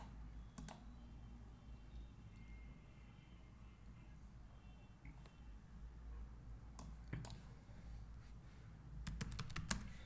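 Keystrokes on a computer keyboard, faint and sparse, with short bursts of clicks near the start and a denser cluster at the end over a quiet room background.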